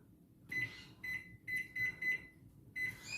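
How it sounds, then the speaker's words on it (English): An electronic kitchen timer, set for 60 minutes while banana bread bakes, gives a series of short, clear high beeps in uneven bursts as buttons are pressed, close by over faint kitchen noise. "so we'll set the timer for 60 minutes"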